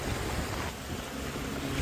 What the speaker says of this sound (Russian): Страшно, капец, волны нереальные